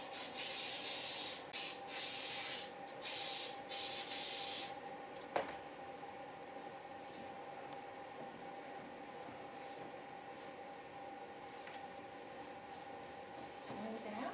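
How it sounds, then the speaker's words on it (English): Spray adhesive is sprayed onto the backings of homemade coasters in several short, sharp hissing bursts, then a faint, steady hiss lingers in a quiet room. "So we're just going to spray this on."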